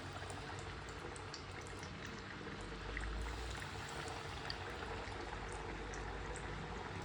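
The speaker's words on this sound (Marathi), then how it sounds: "आता आपण डीप फ्राय करूया" KFC-style coated chicken deep-frying in hot oil makes a steady, dense sizzle and bubbling hiss that holds unbroken throughout, with no voices over it.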